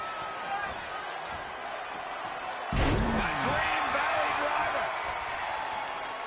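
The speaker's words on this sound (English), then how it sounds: "And this crowd's starting to perk up, Michael." A video game crowd in a WWE 2K20 wrestling match rises into a roaring cheer after a heavy slam, loud and sustained behind the action with commentary voices over it.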